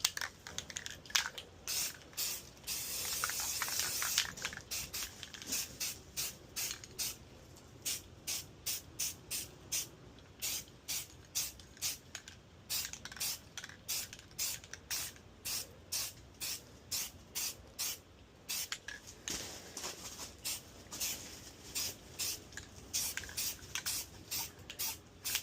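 Flat khaki spray paint hisses from an aerosol can onto an AR-15 rifle in a long run of short, rhythmic bursts, close and steady, with a longer continuous spray at the start.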